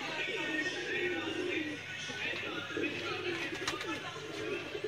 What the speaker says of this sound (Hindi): काले मुंह वाले सियालकोटी कबूतर